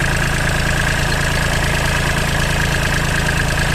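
A Kubota L3408 tractor's diesel engine idles steadily with a constant low rumble and faint knocking, running evenly without any revving.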